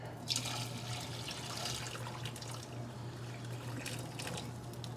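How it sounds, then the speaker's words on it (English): Boiling water pours out of a pot of cooked noodles into a sink, a steady close splashing gush with dripping that runs the whole time, no talk. "We're gonna drain the boiling water."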